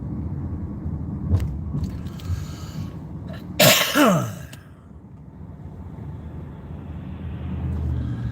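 A man coughs outdoors early in the morning, a few faint throat sounds followed by one loud, harsh, rattling cough burst midway, then quiet low rumble of surroundings.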